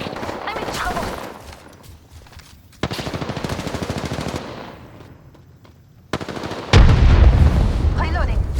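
Rapid automatic gunfire from Apex Legends gameplay comes in sharp, loud bursts separated by brief pauses, with a heavier, booming volley near the end and in-game voice callouts in between.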